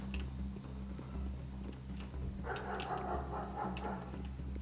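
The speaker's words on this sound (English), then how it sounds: "Didn't know there were dogs in this game." Dogs barking in the video game Pathologic, a burst of several bright, fairly close barks over a steady low game ambience drone, with no talk.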